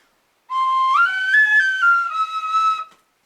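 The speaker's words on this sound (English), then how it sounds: "Let's celebrate the stew with our Irish whistles and play an Irish song." An Irish tin whistle plays an improvised Irish tune, loud and close, with a few sustained notes that step upward and then settle lower, on its own.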